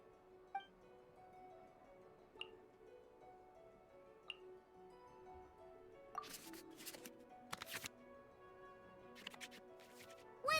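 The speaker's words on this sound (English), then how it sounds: "we can select any number of cards in our hand to shuffle back into the draw pile" Cards in the Genshin Impact card game are shuffled back into the draw pile, quiet ticks and chimes followed by short bursts of flicking shuffle sounds against soft background music.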